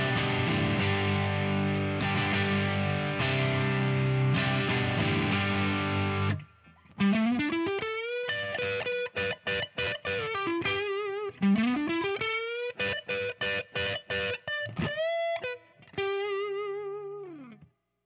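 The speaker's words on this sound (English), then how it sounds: "So here's the split single in the neck with some overdrive." A Yamaha Revstar electric guitar on its split single neck pickup plays through a Barber Gain Changer overdrive, with sustained distorted chords followed by choppy staccato riffs and slides, loud and alone.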